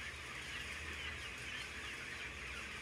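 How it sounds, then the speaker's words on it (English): A faint, continuous wash of many chickens clucking in an industrial barn under fluorescent lights blends with a steady background hum, with no voices. "This is how modern-day chickens are raised."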